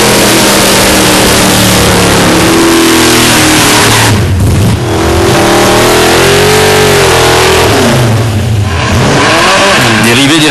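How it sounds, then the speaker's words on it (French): A car doing a tire-warming burnout at a Street Legal competition revs hard and loud for a long stretch, the pitch rising and falling with screeching tire spin, very close and overwhelming. "l'exercice aussi spectaculaire que bruyant de la mise à température des pneus"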